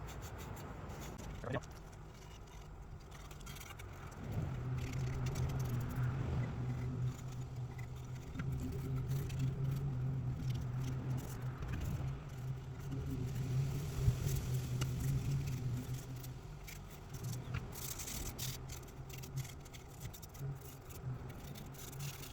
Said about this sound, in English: now I have the trusty old Scrubbo pad here, Scotch-Brite